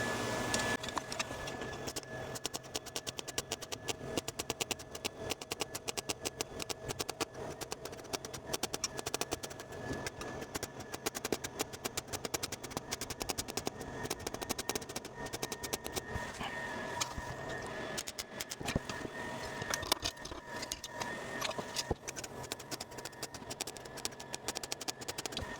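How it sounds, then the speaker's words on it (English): Continuous crackling and sizzling of a welder laying a full seam across a rust-repair patch on a steel car panel, steady and close with no talking. "I'll fully weld this seam all the way across"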